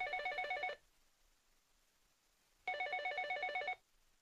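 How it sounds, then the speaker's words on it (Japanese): An office telephone rings in two clear bursts of electronic trilling separated by about two seconds of quiet, close and loud, with no talking. "石川さん、3番に山本設備さんからお電話です。"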